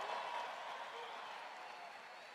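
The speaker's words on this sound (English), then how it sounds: "Give them a big hand." Applause for the 14 players of a gold medal team at a large Donald Trump campaign rally, a dense, steady wash of clapping and crowd noise heard from a distance, fairly faint and holding evenly throughout.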